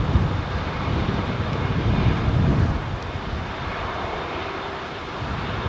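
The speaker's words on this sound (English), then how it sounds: "There's a 350 starting up." Airbus A350 jet engines spooling up at Heathrow, a broad steady roar with low rumble and wind buffeting, fairly loud and continuous for several seconds without talk.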